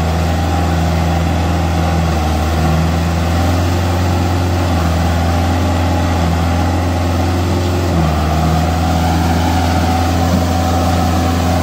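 A heavy diesel engine of a Kubota 4501 4x4 tractor runs steadily at close range, a low rumbling drone with a slight shift in pitch partway through, no voices.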